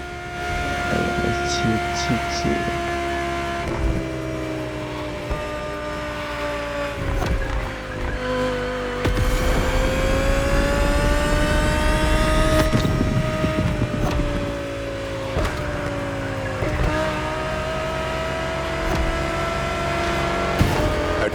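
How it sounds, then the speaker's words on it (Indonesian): A 2020 Audi R8 LMS GT2 race car in the video game The Crew Motorfest, its engine holding a steady high drone with rising and falling pitch through gear changes, loud and close, while a voice talks over it. "The 2020 Audi R8 LMS GT2."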